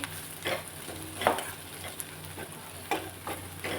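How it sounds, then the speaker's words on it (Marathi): Chopped onions sauté in hot oil for a sprouted moth bean (matki) bhaji, giving a steady low sizzle with a few soft spatula stirs and scrapes at intervals, close by and without talk. "कांदा परतायला एक दोन तीन मिनिट"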